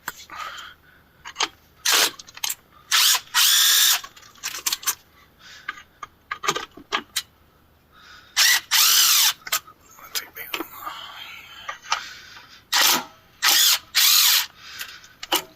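Short, loud bursts from a pneumatic impact wrench break loose bolts on a Duramax diesel engine during a teardown, with rattling pauses and clinks of tools between the hits.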